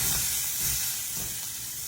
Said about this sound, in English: I got my peppers down there sauteing too